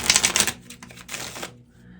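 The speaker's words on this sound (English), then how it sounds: "One shuffle for my Virgs." A deck of tarot cards being shuffled, giving quick, crisp riffling bursts of card flutter in two short clusters, close up with no talking.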